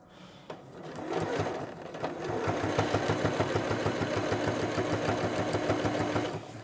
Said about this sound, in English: I've taken my binding, folded it to the right side, and now I'm going to stitch.